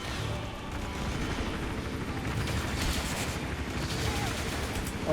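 Sustained gunfire from an enemy in the video game Hitman Absolution, with a helicopter nearby, crackling as a dense, continuous barrage of loud shots that runs the whole time without a break.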